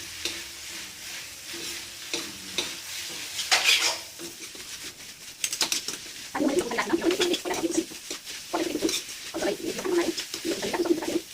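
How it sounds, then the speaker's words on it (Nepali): Chowmein frying and being stirred in a pan, with crackling sizzle bursts and scraping, clinking utensil strokes on the pan, fairly close; birds coo and chirp in the background. "त्यसपछि यसलाई हजुरहरूले फ्राई गर्नु होला।"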